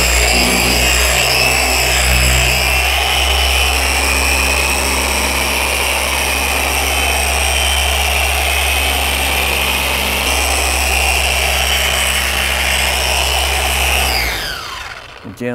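A car polisher spins a pad on show car paint in a garage, a loud steady motor whine and hum running continuously alone before winding down and stopping at the end.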